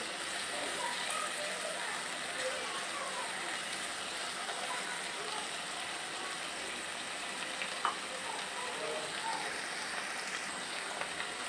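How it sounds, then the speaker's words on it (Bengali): Spices and yogurt sautéed in a pan give off a soft, steady, rain-like sizzle at low volume, with occasional faint stirring sounds and a single small knock. "এখন সবগুলো আমি মশলাগুলো ভালোভাবে মিশিয়ে নিচ্ছি। এটাকে ভালোভাবে কষিয়ে নিতে হবে"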